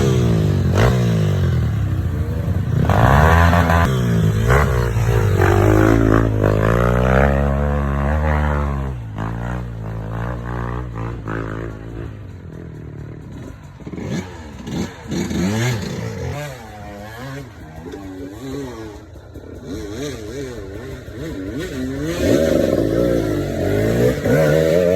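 A motorcycle engine revs and strains loudly and close as it climbs a long, steep, slippery Skyway ramp in Bulacan, with the pitch rising and falling through gear changes.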